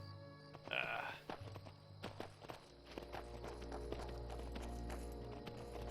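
Horse hooves clop in a steady walking rhythm in the video game Skyrim Special Edition, faint and somewhat distant, over a low hum and background ambience.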